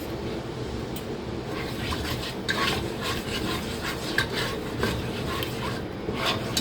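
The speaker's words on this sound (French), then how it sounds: "Je remue le tout." Rice gras stirred in a pot with a spoon, a steady close scraping and rubbing with faint knocks against the pot, continuous and moderately quiet.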